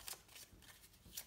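Playing cards riffled and shuffled into a deck during a session of the board game Friday, heard as a few short papery bursts, close and fairly quiet, with no talking.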